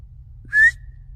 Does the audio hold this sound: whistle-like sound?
yes